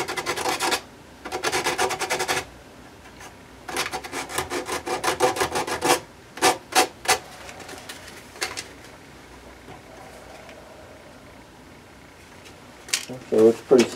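Plastic car console for a Camaro IROC-Z being scuffed with 60 grit sandpaper, bursts of dry rasping strokes in short rhythmic runs, close and moderately loud, then a few scattered scrapes and knocks.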